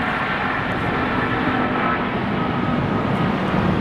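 Airplanes taking off and landing at LAX airport in Los Angeles: a steady, loud jet engine roar holds throughout, a continuous broadband rush with no talk.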